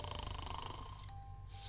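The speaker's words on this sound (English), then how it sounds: "Very mighty snoring there." Snoring in the Purrlock Holmes video game on Cat Island, one drawn-out rumbling snore breath that fades into quiet with a faint tone behind it, soft and close.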